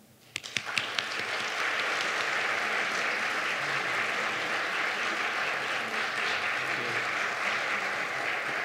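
An audience applauds to welcome Ambassador David J. Scheffer to the podium at a symposium. Dense, sustained clapping starts with a few scattered claps and quickly swells into a steady, even roar that fills the hall.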